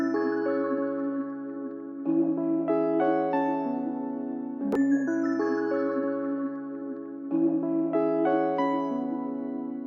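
Dark, moody synth melody built from free one-shot samples, with quick plucked arpeggios rising at the start of each four-bar phrase over sustained low tones, steady and moderately quiet.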